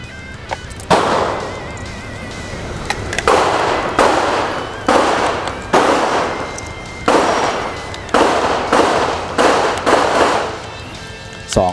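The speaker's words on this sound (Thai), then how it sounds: "เดี๋ยววันนี้ก็อาจจะให้เจ้าของปืนยิงรัวดูว่า รีคอรล์จะหนักแน่นขนาดไหนนะครับ" A Glock 19 Gen 5 pistol fitted with a Demon Arms compensator fires in spaced shots and quick pairs at an outdoor range. The reports are loud and sharp, and each one is followed by a brief ringing echo.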